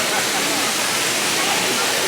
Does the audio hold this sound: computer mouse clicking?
no